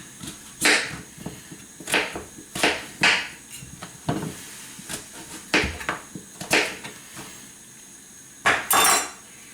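A knife chops peeled butternut squash into rough cubes on a board, sounding as a series of sharp, irregular thuds and knocks, close and clear, without talk.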